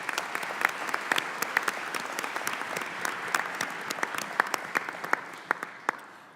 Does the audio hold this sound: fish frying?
no